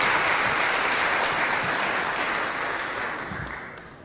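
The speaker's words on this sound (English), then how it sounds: "please join me with a round of applause in welcoming them" A large symposium audience applauds to welcome a panel, sustained dense clapping that stays steady for the whole stretch and eases off only slightly toward the end.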